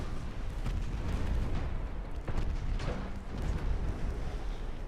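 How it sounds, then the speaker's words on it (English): Torpedoes strike a warship in the naval game Ultimate Admiral Dreadnoughts, producing a rumbling run of deep booms and bursts, with several heavier thuds rolling over a continuous low roar. "He just took 3 torpedoes."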